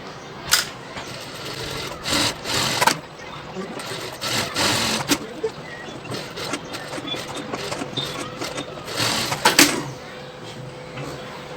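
A sewing machine stitches a seam on a full-sleeve gown in short, close, rattling runs that start and stop repeatedly throughout.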